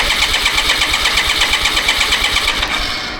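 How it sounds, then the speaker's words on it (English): A 1980s-era BMW K75RT motorcycle engine cranks on its starter with rapid, rhythmic loud churning pulses, close up, winding down at the end after sitting unused for nine years. "I start holding the starter and I unplug the fuse right here for the fuel system"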